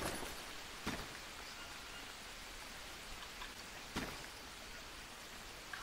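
Steady rain in the video game Green Hell hisses evenly throughout, a dense wash of falling drops with a couple of brief louder pattering bursts.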